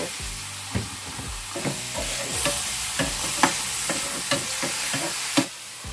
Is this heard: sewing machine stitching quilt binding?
no